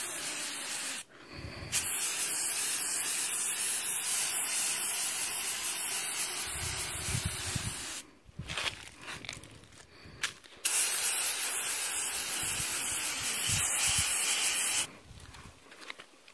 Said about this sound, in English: I'm going to spray from about 6 inches away, and I'm going to just do very light coats.